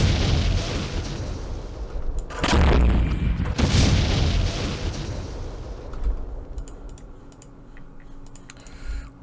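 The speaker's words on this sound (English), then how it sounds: "Oh, we have some mortars." Mortar fire in the Vietnam wargame Campaign Series Vietnam, set in the Battle of Hue: two loud, broad booming blasts close together, followed by scattered quieter clicks and thuds.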